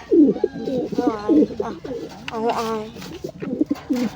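An agitated pigeon in a loft gives repeated deep, throaty coos in close, loud bursts, with a voice speaking briefly between the calls.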